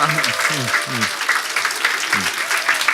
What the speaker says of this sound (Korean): 한번 다 같이 옆 사람을 뜨겁게 박수를 보내드리겠습니다